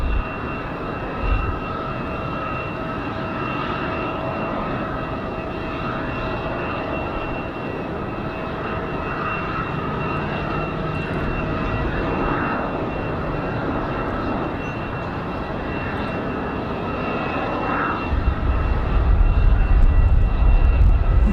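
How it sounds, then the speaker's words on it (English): A Delta CRJ regional jet touches down on runway 5 right at Raleigh-Durham in windy conditions, a sustained distant engine roar holding steady and then swelling louder near the end, with no voices. "Another nice smooth touchdown for the CRJs."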